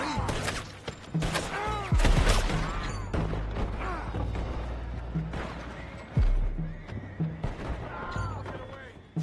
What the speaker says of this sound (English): Boys, go find out about those horses down below.